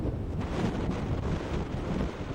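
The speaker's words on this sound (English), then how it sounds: "it's blowing a gale, very windy." A strong gale blows at a coastal lookout on Tasmania's northern island, roaring steadily into the microphone with loud buffeting gusts throughout.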